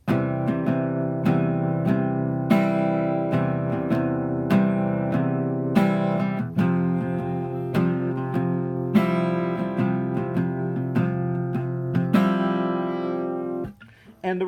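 Guitar chords strummed repeatedly with a muted right-hand rhythm, steady chugging strokes with short accents, loud and close, ending with a brief pause and a final stroke.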